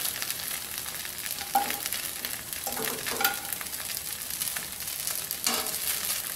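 Spicy idli roasting in a nonstick pan, a continuous bright sizzle with soft stirring or scraping touches now and then, close and steady with no talk.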